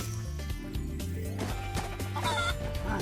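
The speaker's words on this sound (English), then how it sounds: "Oh, it's a giant chicken!" Clucking from a giant chicken in Spyro Reignited Trilogy, repeated, fairly loud bird calls layered over game music and ambient effects.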